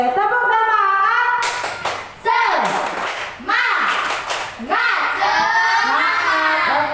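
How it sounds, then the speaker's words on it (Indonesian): A classroom of children performs a rhythmic group clap in short, sharp bursts, with excited young voices shouting and chanting between the claps. "Oke, tepuk semangat."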